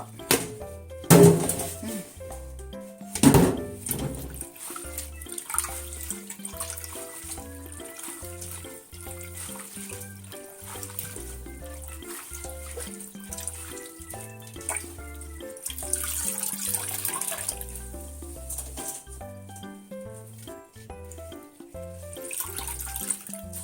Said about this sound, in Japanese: はい、しそ洗ってますよ、今。